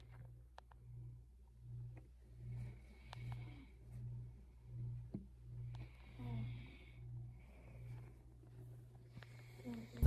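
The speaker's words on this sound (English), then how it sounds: "I don't know if y'all was able to hear him snoring or not." A person asleep snores steadily, about a dozen slow low rhythmic breaths spaced evenly through the quiet, with faint background noises but no talking.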